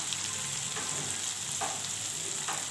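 Spices fry in a pan with a continuous, moderate sizzle and occasional soft stirring scrapes.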